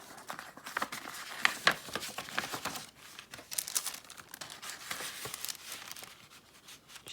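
A sticker slides into a simple craft paper envelope, giving continuous soft paper rustling and crinkling with small scrapes, close and fairly quiet, no speech.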